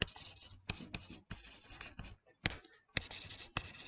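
Pen scratching on paper while writing out a depreciation calculation, a quiet rhythm of short strokes and pauses, close by.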